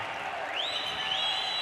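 Crowd applauding at a pro singles racquetball quarterfinal in the Bolivia Open, a steady wash of clapping across the short stretch, with a faint rising whistle-like tone over it.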